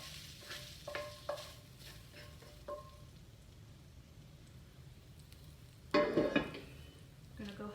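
Beans and sausage get stirred in a crock pot, giving soft wet squishing and scraping strokes at a quiet level, with a louder, denser stir near the end.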